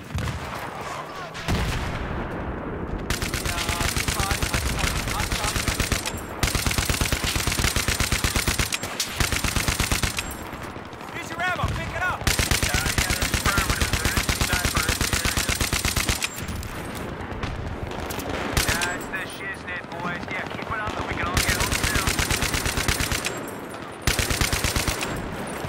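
M60E4 machine gun firing in Battlefield 3 on the Sharqi Peninsula map, long loud sustained bursts of rapid automatic fire separated by brief pauses, with occasional distant gunfire in the gaps.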